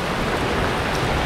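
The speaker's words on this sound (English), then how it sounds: "It's raining! It's raining!" Rain falls steadily as a dense, even hiss, close and loud throughout, during a summer road trip in North Carolina.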